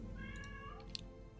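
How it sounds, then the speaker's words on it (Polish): A cat meows faintly in the background indoors, one drawn-out meow rising over a low steady room hum, with no talking. "Nie wiem, czy słychać kota w tle."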